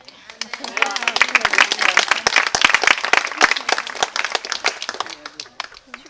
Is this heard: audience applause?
yes